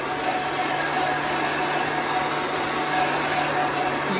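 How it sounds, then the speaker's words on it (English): An industrial heat gun blows continuously while drying chalk ink, a loud, even fan roar with a steady whine and no change in pitch throughout. "we're gonna dry this with the heat gun now."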